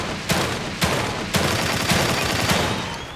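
Sharp gunshots fired in the survival horror game The Evil Within 2, about five loud blasts spaced roughly half a second apart over a steady ambient background, with no talking.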